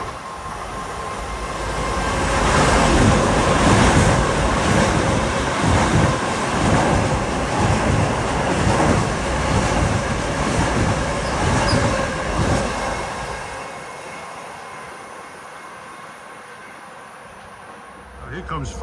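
A Long Island Rail Road train bound for Oyster Bay rolls slowly past nearby, wheels rumbling and clacking over the joints with occasional squeal. The sound fades away as the train moves off.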